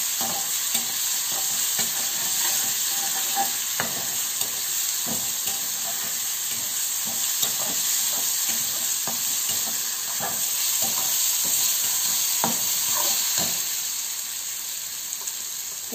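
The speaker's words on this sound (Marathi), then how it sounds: "मी थोडंसं त्याच्यामध्ये फ्राय करून घ्यायची ही चटणी आपण बनवून घ्यायची" Chutney for Mumbai-style batata vada sizzles and fries in a pan while being stirred, a continuous close hiss with regular scraping strokes of the spoon and no voices.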